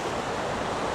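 Water spills from the C&O Canal down into the Potomac River, a steady, dense rushing wash heard up close with no breaks or other sounds.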